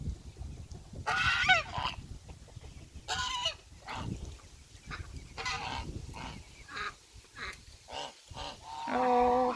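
Honking and quacking calls from ducks and ducklings on a rain-soaked farm, several separate calls over steady outdoor background noise, with no talking.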